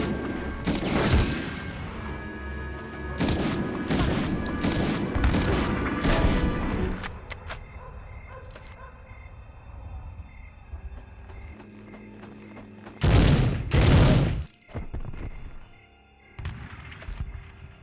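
Bursts of mounted machine gun fire from the Medal of Honor video game, with heavy rapid volleys in the first seven seconds and another loud burst near the end, set against a low rumbling battlefield background.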